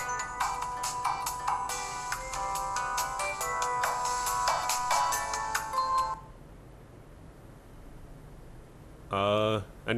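A phone ringtone plays loudly for about six seconds as someone calls back, a rapid repeating melodic pattern that then stops, followed by a brief voice.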